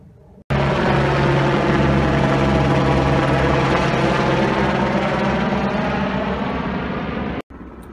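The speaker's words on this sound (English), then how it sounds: "Probably can hear an airplane in the background. They're always landing." An airplane near Las Vegas passes with a continuous loud engine and propeller drone that holds steady for about seven seconds before cutting off abruptly, with no voices.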